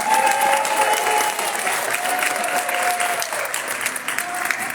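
Sustained, loud applause from a graduation ceremony audience, dense clapping steady throughout with a thin tonal ringing on top.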